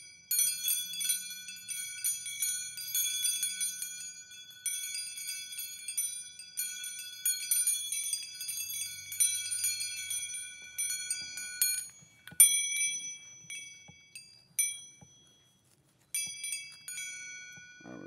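Bright metal bells from a wind chime and bell set ring out one at a time, each clear strike ringing and fading before the next, close and alone.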